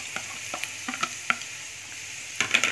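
Scallion oil sizzles in a frying pan as it is stirred, a steady frying hiss broken by sharp spatters and clinks of the utensil against the pan, close by with no talk.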